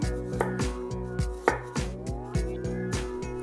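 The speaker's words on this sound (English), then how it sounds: "Cut it into chunks." A knife chops Kai Lan stems into chunks on a cutting board, with a steady run of crisp, close thuds and crunches at an even rhythm and no talking.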